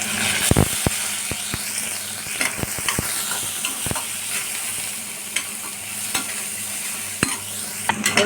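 Chili, asafoetida, curry leaves and onion sizzle in hot oil in a pan while a spatula scrapes and stirs, giving a steady frying hiss broken by sharp metallic clicks, close up with no talking.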